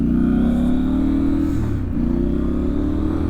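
A motorcycle engine revs steadily and loudly, a deep continuous rumble that rises slightly in pitch, with a brief dip midway.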